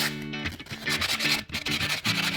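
Rhythmic rasping strokes of a sanding block scrubbing across painted wood, back and forth in quick repeated passes, close up.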